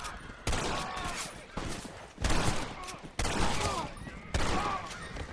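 Gunfire in the Western video game Red Dead Redemption: a string of five loud, sharp shots spaced about a second apart, each followed by a ringing, echoing tail, with a voice talking faintly underneath.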